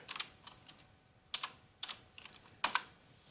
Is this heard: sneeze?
no